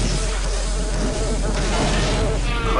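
A robotic flying insect in the video game Daikatana buzzes continuously and loudly, a steady close drone with a faint low hum beneath and brief soft thumps.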